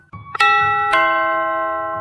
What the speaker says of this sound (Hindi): घंटी बजाई